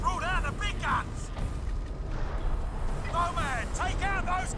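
Heavy cannon fire from the Crysis video game, with dull booms and rumbling blasts in a busy battle mix, while shouted voices cut in repeatedly over the combat noise.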